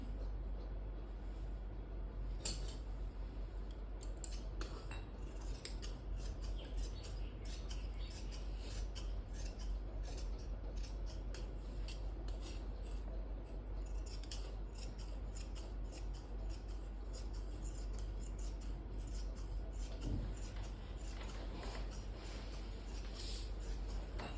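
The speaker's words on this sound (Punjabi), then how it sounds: "ਹੁਣ ਇਹਨੂੰ ਆਪਾਂ ਕੱਟ ਦੇਣਾ ਹੈਗਾ ਇਸ ਕੱਪੜੇ ਨੂੰ" Scissors cutting printed suit cloth for a kameez, a steady continuous snipping and rustle of fabric close by through the whole stretch, over a constant low hum.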